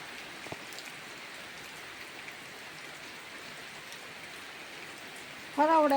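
Heavy rain falls steadily in a dense, even hiss, with a short tonal sound at the very end and no speech.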